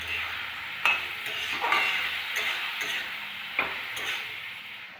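Spices and salt being sautéed in a pan for tangra fish curry, a steady sizzle under repeated scraping stirs and occasional sharp clinks of a spatula against the pan, close and moderately loud with no talking.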